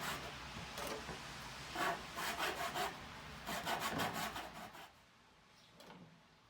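A handsaw works through wood with repeated rasping strokes in short bursts, close and fairly steady, before it stops near the end and only a faint scrape remains.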